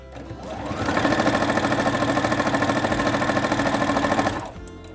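A sewing machine runs steadily for about four seconds, its rapid, even needle rhythm loud and close as fabric scraps are stitched into a long 80 by 5-inch strip for a patchwork blanket, then it stops.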